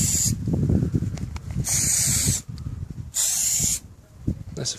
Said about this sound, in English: That's the first spray done.